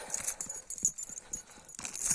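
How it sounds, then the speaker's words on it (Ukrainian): Novooleksandrivka draft stallion from the Dibrivka stud farm, kept on pasture, its hooves clip-clopping in a steady, uneven rhythm of soft thuds at moderate distance, with no talk over it. "Олександрівський жеребець з Діврівського кінного заводу."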